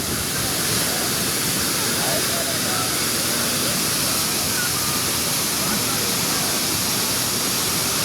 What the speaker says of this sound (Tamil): கீழே அருவி கொட்டுறது